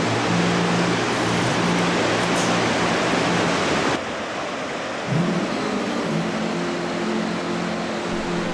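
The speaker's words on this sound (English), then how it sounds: "This is the site where the water falls into the Zambezi Gorge, the largest waterfall in the world." Victoria Falls on the Zambezi River plunging into the gorge: a steady, dense roar of falling water that fills the whole scene, loud and continuous, with a brief dip midway and a faint low hum underneath.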